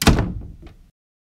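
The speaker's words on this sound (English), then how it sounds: "You can just open your door through your wallet." Hotel room door in Orlando opens with a key card held in a wallet: one sharp thunk of the latch and door, then a brief softer clack before silence.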